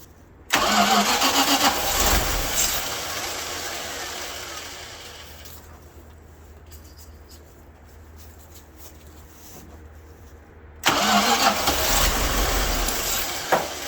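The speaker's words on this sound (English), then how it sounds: "So we're gonna have to start her on starter fluid till the fuel pump fills the bowl up. So let's get to cranking." A Dodge W300 Club Cab truck engine with four dead cylinders cranks on starter fluid in two loud, close bursts, each straining and rumbling for several seconds, separated by a quieter stretch of low idle-like noise.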